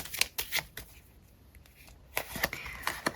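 Lenormand cards are shuffled by hand in close, crisp riffling bursts, with a quiet pause between the flurries.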